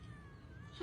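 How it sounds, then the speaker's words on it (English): A street cat in Thailand lets out a short, faint meow, a thin drawn-out call over low background noise. "In Thailand, the street cats help to find the lost cat."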